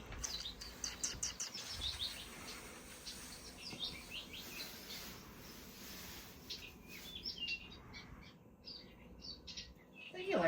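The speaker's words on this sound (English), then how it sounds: "I think you like the birds around and the squirrels." Birds chirp outdoors around a neighborhood with squirrels, quick high tweets in scattered bursts at the start and near the end, faint and fairly distant over a soft background hiss.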